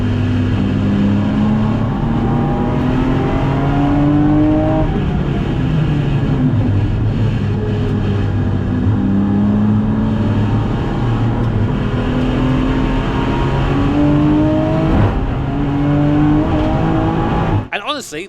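Race cars racing at the Nurburgring, with Porsche Cup cars ahead: a loud, close engine drones steadily, pitch rising and falling through gear changes, with commentary talking over it throughout.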